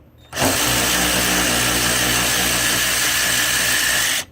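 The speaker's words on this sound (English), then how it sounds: "You're going to remove the two bolts that hold down your roof." A power drill whirring as it backs out the hard top roof bolts on a Jeep Wrangler, one loud sustained burst of about four seconds starting and stopping abruptly, close and alone.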